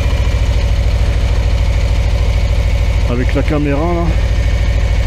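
Harley-Davidson Low Rider ST motorcycle idling, a steady low engine throb running throughout, with someone talking over it.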